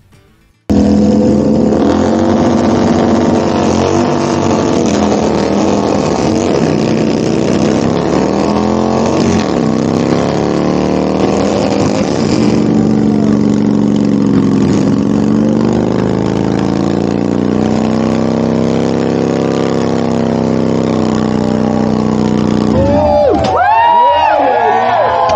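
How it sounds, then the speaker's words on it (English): Several motorcycles rev hard and continuously in a burnout contest at a rally campground, engines snarling and wavering in pitch for a long stretch, loud and close, with a crowd faintly behind. "the final event for this video is the burnout contest"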